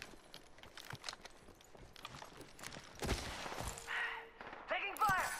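Gunfire in Apex Legends crackles in scattered bursts, starting faint and distant and growing sharper and closer toward the end, mixed with footsteps and other in-game sounds.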